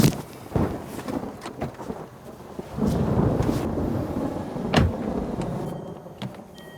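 Outdoor rain falls through a stormy scene in a Thai drama, with low thunder rumbling and swelling at times and a few sharp knocks and clicks, and no talking.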